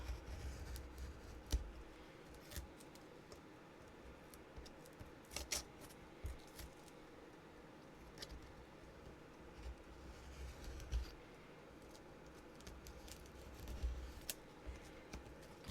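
Scissors snip and slice through paper junk-mail envelopes in short, faint, intermittent bursts over a low background hum.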